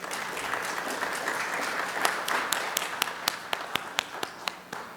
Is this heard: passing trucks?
no